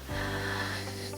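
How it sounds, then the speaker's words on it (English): A single sharp breath drawn up high into the chest, demonstrating over breathing in a public speaking lesson, heard close as a brief snorting, wheezy inhale. "If I bring the air up too high, we call that over breathing."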